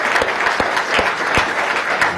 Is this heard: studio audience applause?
yes